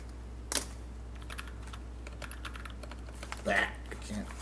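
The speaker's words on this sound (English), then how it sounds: "I can't type." Computer keyboard typing during a math lecture on separable equations: scattered close keystrokes with a louder burst near the start and another near the end, with a faint voice mixed in.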